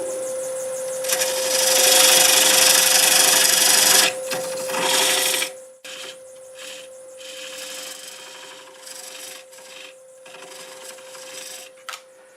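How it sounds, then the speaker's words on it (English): A parting tool cuts into black walnut that is green inside on a wood lathe, a loud scraping hiss over a steady motor hum for several seconds before the cut stops and quieter lathe noise continues. "open it up just a little bit with the parting tool"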